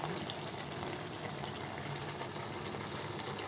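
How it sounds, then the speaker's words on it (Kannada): Water is poured into spicy chicken masala cooking in a mud pot, making a steady gushing, hissing pour without pause. "ಇದಕ್ಕೆ ಸ್ವಲ್ಪ ಇವಾಗ ನೀರನ್ನ ಆ್ಯಡ್ ಮಾಡ್ಕೊಳ್ಳೋಣ"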